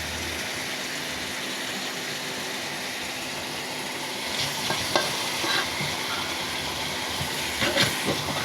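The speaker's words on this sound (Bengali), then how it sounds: "মাছগুলো আবার নাড়াচাড়া করে দিব।" Tilapia fish frying in a pan, a steady loud sizzle throughout, with scraping stirs joining in the second half as the pieces are turned.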